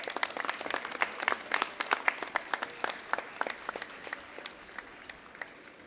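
Applause at a National Heroes Day ceremony for two young people returning to their seats, a dense patter of many hands clapping that starts strong and gradually thins and fades toward the end.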